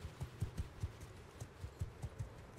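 Horse hooves gallop in a quick, steady clip-clop rhythm in Mount and Blade Bannerlord, with repeated low thuds at moderate loudness and no voices.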